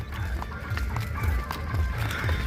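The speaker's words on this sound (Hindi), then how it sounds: "ये हमारे घोड़े जी इधर बैठे हुए हैं" Horses in a village in Rajasthan: a steady, fairly loud clip-clop of hooves with a regular walking rhythm that runs throughout, with faint higher snorting or whinny sounds on top.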